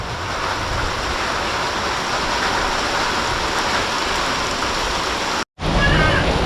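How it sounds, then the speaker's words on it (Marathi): Heavy monsoon-style rain pours down in a Konkan village in late May, a loud, dense, unbroken hiss and roar close by, cutting out for a split second near the end before resuming. "बघता बघता एकदम जोरदार पाऊस आला"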